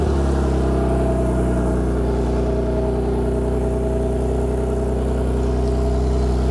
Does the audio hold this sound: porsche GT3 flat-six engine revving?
yes